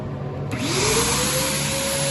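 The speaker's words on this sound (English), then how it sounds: "We turn on the vacuum and it pulls it through all that filter medium." A vacuum switches on after a brief pause and pulls a sugar sand slurry through a filter press, settling into a steady loud whine with a slowly rising tone.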